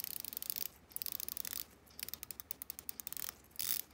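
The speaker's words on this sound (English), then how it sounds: "120 click bezel" The 120-click unidirectional bezel of a Seiko SKX007 dive watch is turned in bursts, producing rapid rows of tiny crisp ratcheting clicks with brief pauses between turns, very close and quiet with no voices.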